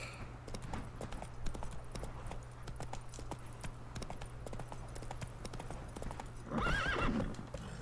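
Roach, Geralt's horse in The Witcher 3, clip-clops along steadily over a low ambient drone, then lets out a loud whinny near the end.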